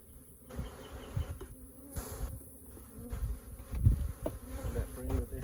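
Honey bees hum steadily around an open hive during a frame inspection, a close, continuous buzz that swells and fades as individual bees fly past, with faint handling knocks underneath.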